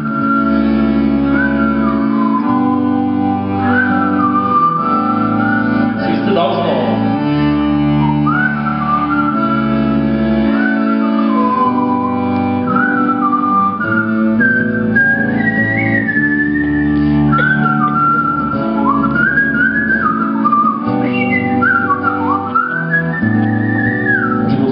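Whistling carries a melody in long, smooth phrases over steady instrumental accompaniment, loud and continuous, as an audience whistles along.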